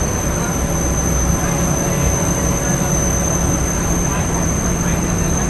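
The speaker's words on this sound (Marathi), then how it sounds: "मित्रांनो जेटी आता सुटलेली आहे बघा" A ferry's engine drones loud and steady as the boat pulls away from the jetty on the way to Harihareshwar, a constant low rumble with sustained mechanical whine.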